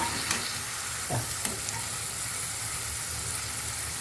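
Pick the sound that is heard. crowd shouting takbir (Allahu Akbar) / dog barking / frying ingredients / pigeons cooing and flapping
frying ingredients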